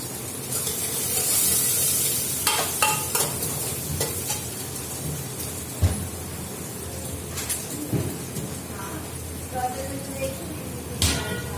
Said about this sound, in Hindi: सब्जी बना रही मैं आलू शिमला मिर्च